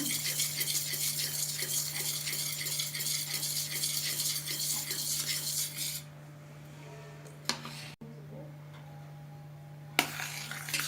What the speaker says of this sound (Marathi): आता पुन्हा याला छान एकदा मिक्स करून घेऊया